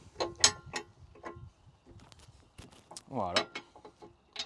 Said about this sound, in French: J'approche le contre-écrou à la main et ensuite, je prends la clé pour le serrer.